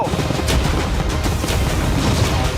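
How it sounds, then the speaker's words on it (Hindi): Cannon fire in a cartoonish yacht battle through thick smoke, heard as a dense, loud rumble of blasts and booming with no clear pauses. "कैनन्स को फायर करो"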